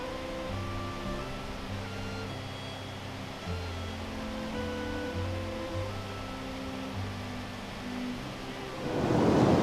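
Doodh Ganga mountain river along the Vasuki Tal trail above Kedarnath, a steady broad rush of flowing water with wind, close and continuous, swelling louder near the end.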